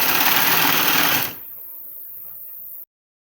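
A sewing machine stitches a jacket belt in a loud, close, fast whirring burst that stops abruptly after about a second, leaving a faint hum.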